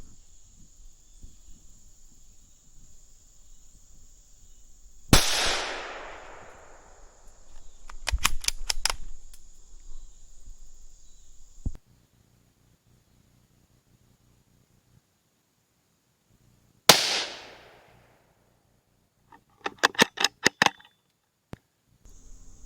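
Two sharp gunshots ring out while squirrel hunting outdoors, each a loud crack with a decaying echo several seconds apart, followed by quick rustling clicks and handling noises between them.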